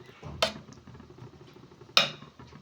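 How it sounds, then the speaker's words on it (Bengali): A spoon scrapes and knocks against a pan while thick chyawanprash mixture is stirred, giving two sharp metallic clinks over a soft, low shuffling of stirring. "অনবরত নাড়তে থাকবো।"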